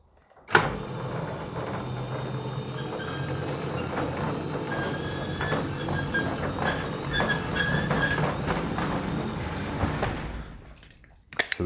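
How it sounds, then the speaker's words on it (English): A motorized garage roller door runs continuously for about ten seconds, rattling and grinding with faint squeaks mixed in, then stops with a clunk. "So there is still a little bit of squeaking"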